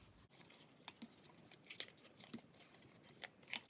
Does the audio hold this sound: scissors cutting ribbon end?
yes